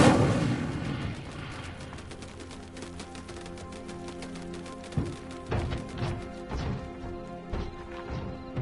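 An Incendio fire spell is cast in the video game Hogwarts Legacy, bursting with a loud whooshing crash that decays into a ringing, tonal tail, followed by several sharp impact thuds.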